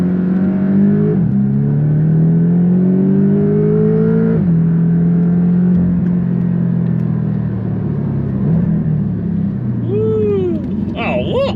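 A Porsche laps the Pau Arnos circuit, its engine loud and close, the revs climbing and falling through gear changes, with a brief dip under braking before it pulls hard again.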